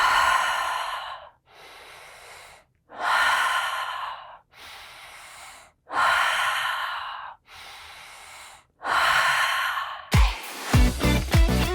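Slow, deep breaths drawn and released in a steady paced rhythm during a guided breathing exercise, each long airy inhale and exhale close and clear in a quiet room, with a brief burst of other sound at the end.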